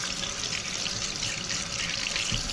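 Water runs steadily from a kitchen tap, a continuous close splashing hiss into a sink with a faint dull knock near the end and no voices.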